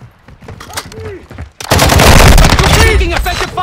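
Sustained automatic gunfire in Call of Duty: Modern Warfare II, quiet scattered shots and faint radio chatter giving way at the midpoint to a loud, dense burst of rapid fire that continues to the end.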